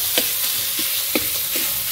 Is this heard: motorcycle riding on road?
no